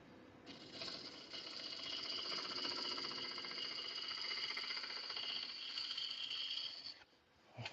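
A wood lathe spins a workpiece held on a worm screw, a steady buzzing mechanical whir with a rapid knocking rattle that starts up, runs for several seconds close by, then winds down, with no talking.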